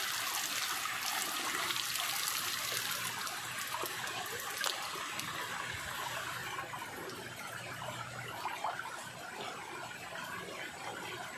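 Creek water trickles and flows steadily at low volume, a soft continuous wash with no voices over it.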